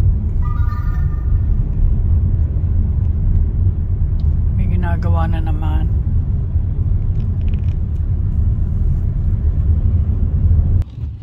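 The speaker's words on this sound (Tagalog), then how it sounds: "Kaya pala traffic." Heavy road traffic rumbles steadily from inside a vehicle, a loud low drone with a brief horn-like tone in the middle, while a person talks over it.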